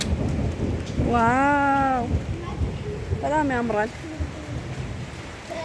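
Steady rain pours down with a low rumble during a storm near Tosa mountain in Ethiopia, while a voice exclaims over the continuous downpour.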